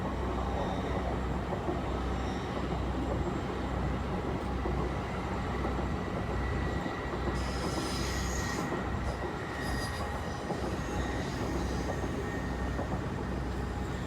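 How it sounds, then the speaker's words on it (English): A Leeds to London train passes a level crossing at Moat Hills, a steady loud rumble of wheels on rail running throughout, with brief high wheel squeal and clatter in the middle stretch. "Leeds London train."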